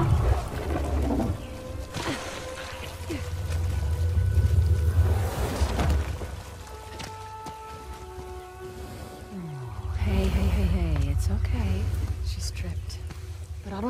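Wounded elephant in the game Uncharted: The Lost Legacy, letting out drawn-out, wavering trumpeting calls and low rumbling groans in two loud swells, the second rising in a sliding cry, over a steady low ambient drone.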